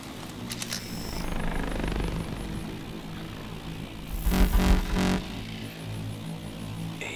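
A Call of Duty: Advanced Warfare helicopter drones with a low steady rotor hum that swells into a louder, choppy pass before easing off into the distance.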